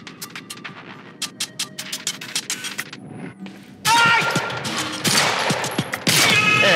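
Pistol shots pop in a quick irregular series in the Quantum Break shooter, then heavier, louder bursts of combat fire and impacts take over near the end.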